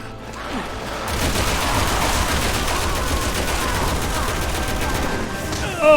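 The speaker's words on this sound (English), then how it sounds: "Switching back to the assault rifle for this." Sustained assault rifle fire from Resident Evil 6 rattles in a loud, continuous burst lasting several seconds, starting abruptly after a quieter moment and ending with a heavier thump.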